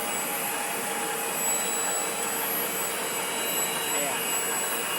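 Machine number 3, powered on from its main breaker on a single-phase supply, runs with a continuous close whirring drone and steady high-pitched tones, unchanging over a few seconds.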